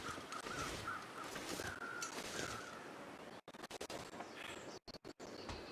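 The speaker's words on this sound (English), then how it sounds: "there's a crows flying overhead. Crows often mean there's a corpse." Crows caw overhead in the survival video game The Long Dark, several harsh calls over the first two seconds above a constant windy outdoor hiss, followed by brief dropouts in the ambience.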